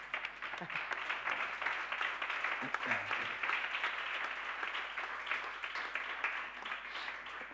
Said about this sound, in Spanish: Pues solicito un aplauso para estos valientes